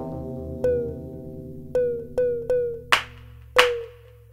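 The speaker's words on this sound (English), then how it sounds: "I like the clap sound and also this effect sound." Clap sample from the UVI Beastbox drum library, sharp claps and percussive hits landing in an irregular pattern over a sustained musical bed, the last two brighter and louder.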